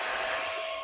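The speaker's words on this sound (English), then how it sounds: "I'm just gonna mix it with a hand mixer until it forms some peaks for me." Steady high electric whir of a hand mixer whipping an ice cream base until it forms peaks, close and continuous for a brief moment with no talk.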